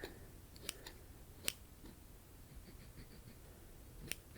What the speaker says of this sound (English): I would use little tiny scissors like these